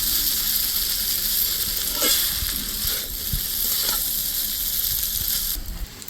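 Chowmein is tossed with pepper powder in a hot frying pan, a bright, steady sizzle with occasional scrapes and knocks of a utensil against the pan.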